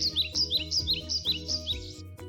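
Goldfinches as a storybook sound effect: a quick run of bright, repeated chirps and twitters, close and clear over a low steady musical backing, with no talk.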